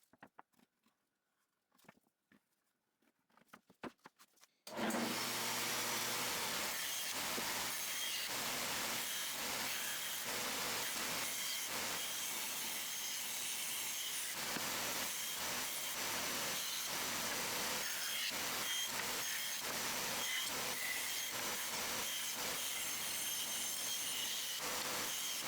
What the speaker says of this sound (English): Before going back to the bandsaw, I trace out the small parts on the pallet wood.